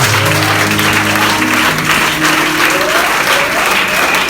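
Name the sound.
congregation applauding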